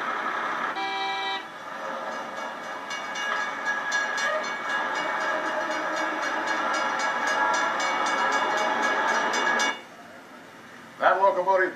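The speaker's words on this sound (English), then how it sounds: "Here you'll find trains, and more trains." Rumbling train noise with a long, steady horn-like tone, fading abruptly near the end before a brief burst of other sound.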